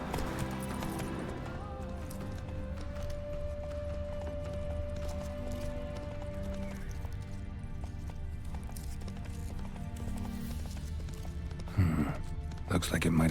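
Horse hooves galloping in the video game The Witcher 3, a steady rhythmic clip-clop with occasional snorts and a neigh, over game music, with a voice speaking at points.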